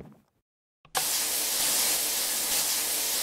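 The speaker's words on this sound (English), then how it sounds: "Time for a shower!" Shower water running in a video game, a steady broadband hiss that cuts in abruptly after a near-silent moment and continues loud and unbroken to the end.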